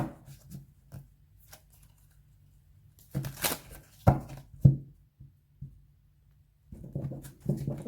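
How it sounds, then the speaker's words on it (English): Tarot cards are shuffled by hand in short, irregular bursts of riffling and sliding, close and quiet, with gaps of near silence between the flurries. "let me quickly shuffle these"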